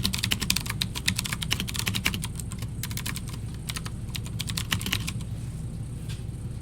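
Code being typed on a computer keyboard, a fast, continuous clatter of close keystrokes over a low background hum, with no voices.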